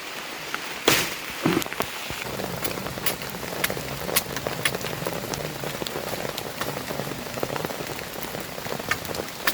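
Steady rain falls through a humid jungle, pattering densely on leaves and surfaces with scattered louder drips and a few sharp knocks near the start, continuous and close with no voices.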